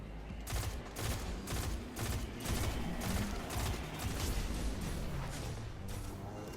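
Enemy gunfire in Destiny's Winter's Run Nightfall, a dense, continuous barrage of rapid shots and bursts that keeps up steadily throughout, loud and crowded with overlapping fire.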